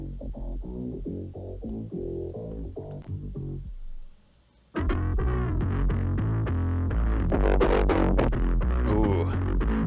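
Distorted synth music for a DOOM-style track plays loudly and throbs as a heavy pulsing line, cuts out briefly, then returns denser, harsher and louder.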